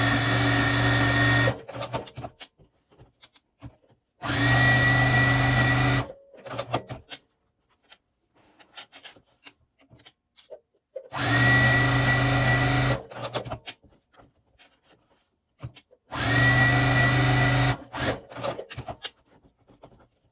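A sewing machine stitches fabric quilt blocks made from scraps in four bursts of steady, rapid mechanical whirring, separated by quiet gaps with faint handling noises.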